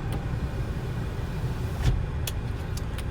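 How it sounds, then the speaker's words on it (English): Passing road traffic makes a steady, moderately loud rumble of car engines and tires, with one vehicle swelling closer near the middle and a few sharp knocks near the end, and no voices. "Sorry about the traffic noise."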